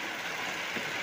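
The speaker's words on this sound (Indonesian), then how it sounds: "deras sekali teman-teman hujannya" Heavy rain pours onto the roof of a campervan, heard from inside as a continuous dense hiss and patter, steady and fairly loud, with no talk.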